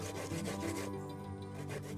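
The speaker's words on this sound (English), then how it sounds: "we have our grater here, and we're going to grate them together" Ginger and coconut rasped on a kitchen grater give a close, continuous scratchy rubbing with a quick back-and-forth texture, steady in level and free of talk.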